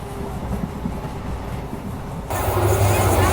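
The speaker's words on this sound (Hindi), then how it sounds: "ये वही ट्रेन क्रॉस हो रही है" The Barmer–Rishikesh Express rumbles past on a single-line crossing, a steady rolling clatter that suddenly swells louder and brighter partway through as the train draws alongside, with no talk.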